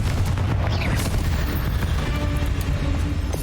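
Confringo blasting spell in Hogwarts Legacy: a steady barrage of loud booming blasts and crackling impacts that fills the whole moment with no pause.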